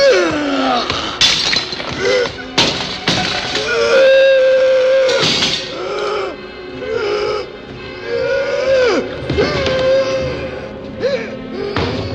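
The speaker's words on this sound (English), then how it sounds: "and then angrily it began smashing the laboratory" A monster smashes through a laboratory in an audio drama, with glass shattering, heavy thuds and crashes rising over a swelling orchestral score, loud and chaotic throughout.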